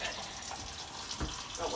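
A tap runs steadily into a basin during handwashing on a goat-milking farm, a continuous hiss and splash of water, with a voice faintly present beneath it.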